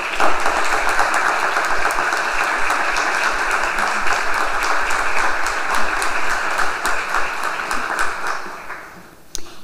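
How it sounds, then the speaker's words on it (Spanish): Applause from an audience at a university talk in Bucaramanga welcomes a newspaper director onstage, a dense, sustained clapping that carries steadily for about nine seconds before tapering off near the end. "recibámoslos con un fuerte aplauso."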